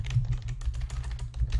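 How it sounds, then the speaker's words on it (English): Rapid, fairly loud typing on a computer keyboard, a dense run of clicking keystrokes with no talk, over a low steady hum. "Sorry for the loud typing."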